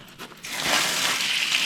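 Water rushing through newly fitted pipes into a basement, a sudden steady gush that starts after a brief pause and keeps flowing loudly.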